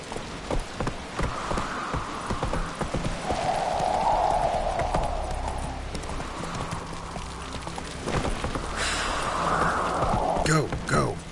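A horse gallops in The Witcher 3 video game, with steady clip-clop hoofbeats running throughout, rain in the background and a brief whinny near the end.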